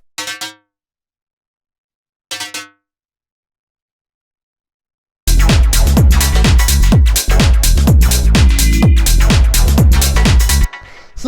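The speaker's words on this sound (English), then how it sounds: "Then we have this little rising percussion" Rising percussion synth element built in Ableton for a minimal house track, a quick run of tuned metallic hits that climbs steadily in pitch over a thick driving groove, preceded by two short isolated tonal blips.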